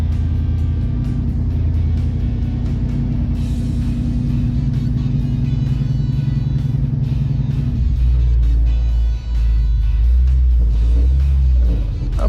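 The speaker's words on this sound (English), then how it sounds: "it's time to test them at night on the road" A 1981 Pontiac Trans Am drives on the road at night, its engine a loud, continuous low rumble heard from inside the car with shifting tone as it accelerates and cruises.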